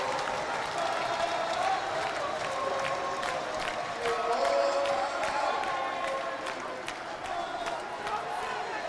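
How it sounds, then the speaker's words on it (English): A pumped-up crowd at a college basketball game between Yeshiva and Farmingdale State cheers and claps in a loud, steady roar, with an announcer's voice running over it. "This crowd is pumped."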